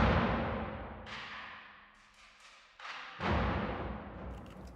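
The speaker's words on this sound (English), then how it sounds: "So Percussion 2 sounds like this" Layered cinematic percussion from the Hans Zimmer Percussion Professional library, Percussion 2 patch: deep booming drum hits with bright cracks, several big strikes with long decaying tails, loud and close, no voices.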